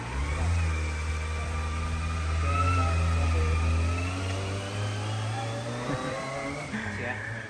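Engine of a Kawasaki ZX25R motorcycle, a low steady drone that rises in a rev around the middle and settles near the end, close by, with people talking over it.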